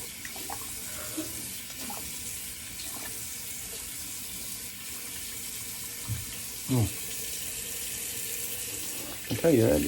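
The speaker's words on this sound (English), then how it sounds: "Get a little cold water on this bleeder." Cold water runs steadily from a tap into a sink during a wet shave, a continuous soft splashing rush with a few brief clinks and handling sounds near the end.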